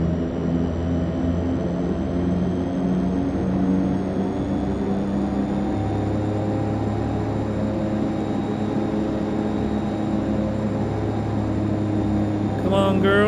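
De Havilland Canada DHC-6-300 Twin Otter twin turboprop engines at takeoff power in the FSX flight simulator, a steady loud droning hum that steps up in pitch midway and holds.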